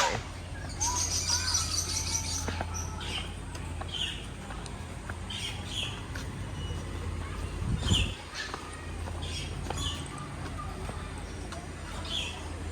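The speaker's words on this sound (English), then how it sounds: "Now we're inside the aviary." Birds chirp and tweet all through the aviary at Taronga Zoo Sydney, with scattered calls and a dove cooing over a low steady rumble of background noise. Other sounds come and go beneath them.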